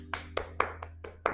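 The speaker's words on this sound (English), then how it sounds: "I feel like I deserve a round of applause" A single person claps slowly, six or so separate sharp claps spaced unevenly over a second and a half, close and fairly quiet against a low steady hum, with no talk.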